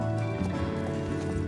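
Horse hooves clip-clop in the Star Stable video game, a steady patter of footfalls heard under a dense, loud bed of game music with no voice over them.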